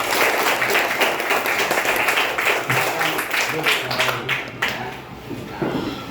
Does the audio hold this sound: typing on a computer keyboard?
no